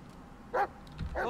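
A dog barks twice in the horror game Blair Witch, short yipping barks close by against a quiet, low ambient background.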